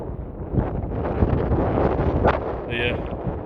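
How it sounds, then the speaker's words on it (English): Gusty wind buffets the microphone on a rocky seashore during a hot, sunny day of foraging and fishing: a steady, loud roar that swells and dips throughout, with no one speaking. "But yeah, a bit windy now"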